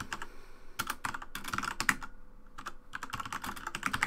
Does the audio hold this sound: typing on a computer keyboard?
yes